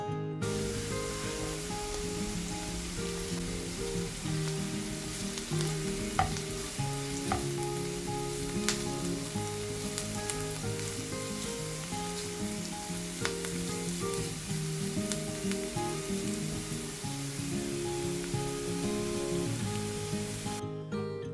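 Chopped carrot sizzles with onions in a hot pan, a loud, continuous frying hiss with occasional stirring clicks over a steady musical background.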